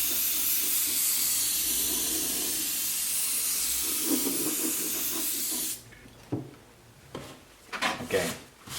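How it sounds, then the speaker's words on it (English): Airbrush sprays paint onto a clone trooper shocktrooper helmet during weathering, a loud steady close hiss for several seconds, then stopping, followed by light handling clatter and faint background sounds. "I'm just going to take the airbrush and spray everywhere"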